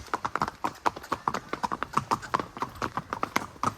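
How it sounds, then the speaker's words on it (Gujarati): Horses clip-clop steadily on a ride through Matheran, two riders mounted on a black horse and a white horse, the hoofbeats close, quick and regular throughout. "અમે બે અત્યારે ઘોડા ઉપર છીએ"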